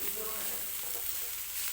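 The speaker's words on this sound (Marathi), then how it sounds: "व्यवस्थित तेलामध्ये मिक्स करून घ्यायची आहे आपल्याला ही भाजी" Steady, close sizzling of safflower greens frying in hot oil, with faint stirring scrapes over the continuous crackle.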